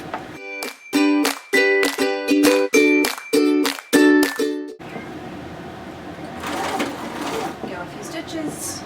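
A sewing machine stitches the hem of a pair of shorts in short bursts, with a handful of quick runs and pauses between them, then settles into a softer, steady hum with handling noise.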